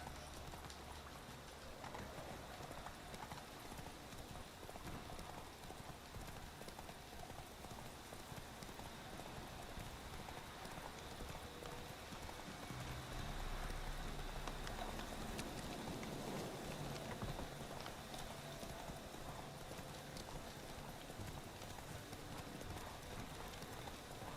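Horse hooves gallop in The Witcher video game, a fast, continuous clip-clop rhythm heard over a dense wash of rain-like ambience and steady background noise, fairly quiet overall.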